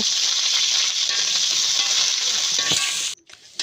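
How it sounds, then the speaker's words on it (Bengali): Potatoes fry in oil in a wok, a steady loud hiss that holds for about three seconds before cutting out abruptly, followed by a brief quieter sputter near the end. "প্রথমে কড়াইতে তেল দিয়ে আলুগুলোকে ভাজা করে নেব"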